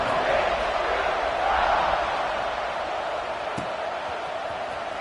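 A football stadium crowd roars steadily before a kickoff at an Arizona State game, a broad, loud wash of noise that swells briefly and then holds at a constant level.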